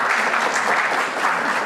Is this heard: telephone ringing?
no